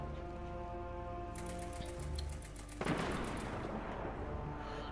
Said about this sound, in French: Fusil à impulsion.